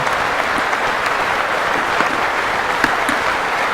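Thick applause rolls through a packed political chamber during a presidential address, Nancy Pelosi clapping along with the crowd; a continuous, even wash of many hands with a few sharper claps poking out near the front.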